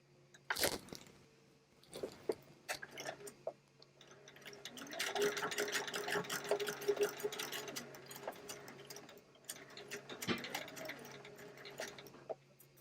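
A sewing machine stitches an elastic casing on doll pants and skirts, starting with a few short bursts and handling clicks, then a sustained close run of rapid needle chatter, a pause, and a shorter final run.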